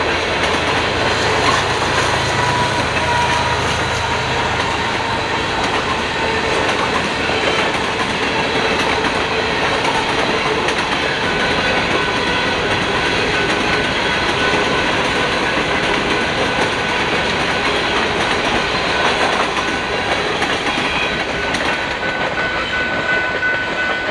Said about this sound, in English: another BNSF Gevo shoving today's big manifest towards the NS